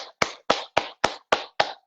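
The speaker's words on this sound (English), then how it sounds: "clapping, clear sound, cupping" Cupped hands clapping percussively on the body, eight sharp hollow claps in a steady quick rhythm, close and loud with no voice.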